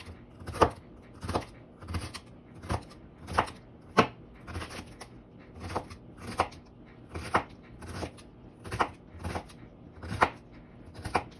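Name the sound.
knife chopping celery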